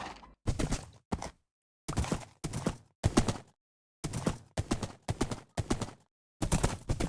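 Horse hooves clip-clopping in Minecraft, a series of about ten separate hoof clops spaced by short silences with a steady walking rhythm, close and clear, with no talking.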